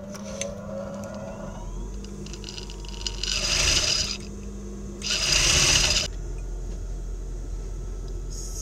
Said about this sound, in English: So I will top stitch 1/4 inch.